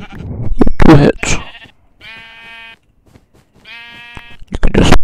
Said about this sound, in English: Let's fight the sheep.